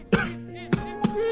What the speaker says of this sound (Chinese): 剧烈的咳嗽声